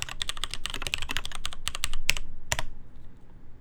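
Typing on a mechanical keyboard fitted with MX Black switches on a polycarbonate or plastic plate, with DCS cream cheese and green keycaps: a fast, steady run of close, crisp keystrokes that thins out near the end, with no talking.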